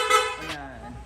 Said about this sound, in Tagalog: pa-activate naman ng loud horn